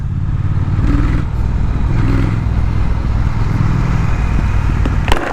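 A Night Black BMW 1250GS motorcycle pulls along in third gear with a loud, steady engine drone and wind rush, its note rising slightly at times, with a sharp knock near the end.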